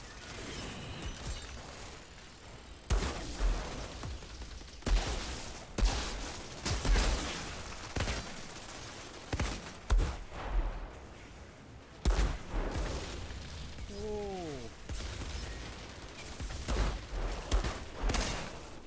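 Shotguns fire in the video game Outriders: heavy, booming blasts come at roughly regular intervals through the stretch over a steady background of game noise.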